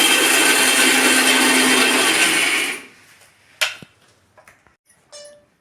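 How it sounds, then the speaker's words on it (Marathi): A mixer grinder roars steadily for a few seconds grinding peanuts fine, then stops abruptly, followed by a few light clinks and knocks. "तर मिक्सरला आता शेंगदाणा बारीक करून घ्यायला लागल्या"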